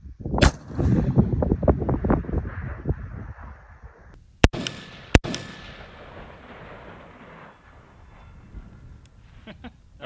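Shots from a PSA MK12 Mod0 clone rifle ring out as a loud opening string of rapid cracks, then two sharp isolated reports a little apart, with faint talk and range noise in between.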